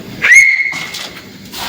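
A person whistles a single sustained, slightly rising note indoors in a quiet room, loud and close, followed by faint rustling and a short noise afterward.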